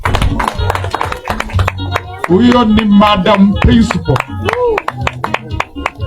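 Crowd clapping for Madam Jane, a principal, at a church disciple-training gathering: a dense patter of hand claps runs across the whole stretch, with a singing or cheering voice rising above it partway through and speech mixed in.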